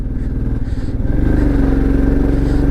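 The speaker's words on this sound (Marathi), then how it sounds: "आपली बाईक आता जाणार आहे" A motorcycle engine on a high mountain road near Shinkula pass drones loud and close, its pitch rising as it picks up speed, with rattling and rumble beneath.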